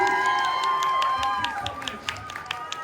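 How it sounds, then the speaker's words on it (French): Convention audience at a fan panel claps and cheers, sustained applause with scattered sharp claps and whistles over a bright crowd din. "on peut encore les applaudir encore une nouvelle fois très très fort"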